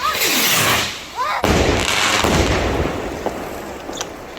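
Bonfire Night firework rockets go off close by, with a whooshing launch followed by a loud bang and a long crackling, fizzing tail.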